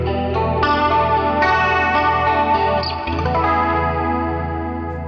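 Electric guitar chords played through Line 6 Helix Native amp modeling ring out with an 80s-style clean chorus, shimmering and wavering, and a bright, splashy wash of reverb, played steadily and fairly loud with no voices.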